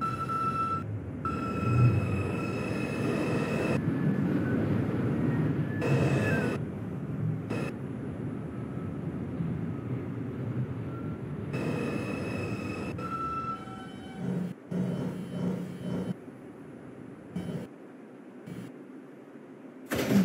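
A New York 5 local subway train, an R142 in the Bronx, runs with a steady rumble and clatter, broken by short drops and shifts as it rolls along, with no voices.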